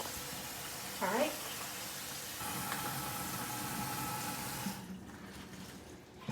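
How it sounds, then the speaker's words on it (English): Tap water runs steadily into a sink, filling it, in a close, even rushing stream that cuts off near the end, leaving quieter room tone. "So now I'm going to fill the sink"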